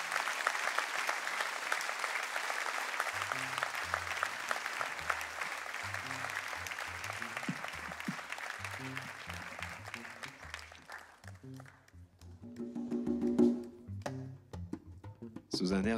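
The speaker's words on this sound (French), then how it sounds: "Un tonnerre d'applaudissements, s'il vous plaît." Loud sustained applause from a large audience at the Elwa d'Or 2012 awards ceremony, later thinning out as music begins to come through near the end.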